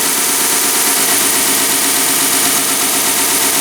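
A Vevor belt sander grinder runs at speed, turned up to about 1500 RPM, producing a loud, even mechanical whir and hum that holds steady throughout without speech.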